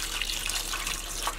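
Water running from a kitchen tap into a pot of potatoes, a close, steady hissing gush with a slight splashing flutter, alone with no talk.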